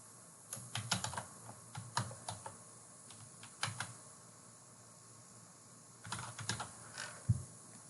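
Typing a password on a computer keyboard: clusters of quick, light key clicks, close and quiet, separated by short pauses over a faint steady background hum.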